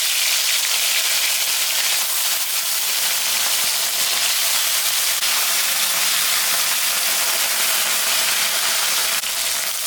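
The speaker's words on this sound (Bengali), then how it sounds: "তেল গরম হয়ে গেছে, মাছটা আমি এখন ভাজে নেব" Puti fish frying in hot oil gives a steady, dense sizzle with crackling hiss that stays loud and even throughout, with no voices.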